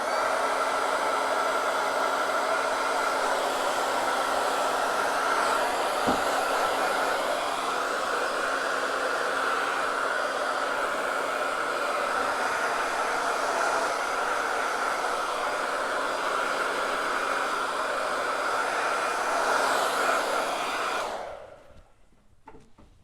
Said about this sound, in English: I am gonna grab my dryer.